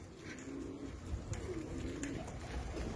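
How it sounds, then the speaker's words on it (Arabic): Pigeons cooing softly in a loft or aviary, several low repeated coos over a faint background hum, with no talking. "طيور حلوة ومرتبة"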